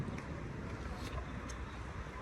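Steady wind buffeting the microphone in a park, a broad rushing noise with occasional gusts, fairly constant throughout.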